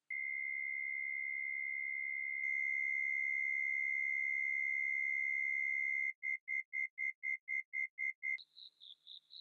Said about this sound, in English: For creating the actual cricket chirps, I applied some ring modulation to a sine wave and added some slight distortion.